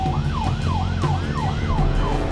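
An ambulance siren wails, sweeping up and down in steady repeating cycles over a low engine rumble, loud and close.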